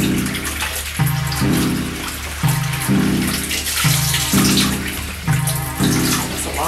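Water gushes from a tap to warm it before a cat's bath, a loud, close, continuous stream with pulsing swells about once a second and no talking.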